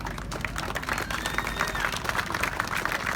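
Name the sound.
applause for the Can-Am podium group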